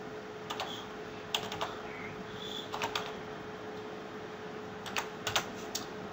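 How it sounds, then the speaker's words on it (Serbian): Someone types a phone number on a computer keyboard while installing Viber on a PC: scattered clusters of quick, light key clicks separated by pauses against a quiet room background, with no talk. "i sad ću ja upisati svoj broj"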